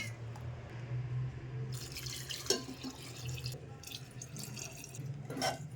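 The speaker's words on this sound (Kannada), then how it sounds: "ಆ ನೀರನ್ನು ಕೂಡ ಅಲ್ಲಿಗೆ ಹಾಕುತ್ತಾ ಇದ್ದೀನಿ" Water drained from greens is poured into a cooking pot while making Mandya-style mossoppu, a soft, continuous pour with light splashes and drips in a quiet kitchen.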